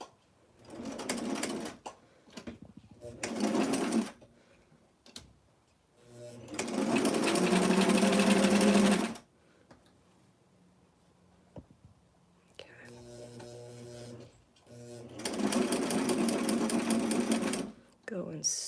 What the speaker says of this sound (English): So let's go and we'll start with a back stitch.